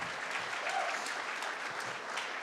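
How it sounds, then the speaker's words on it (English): Steady applause from a crowd at an ACTRA awards ceremony, dense clapping filling the whole stretch at a constant, moderately loud level with no voices standing out. "you should all take a round of applause for yourselves"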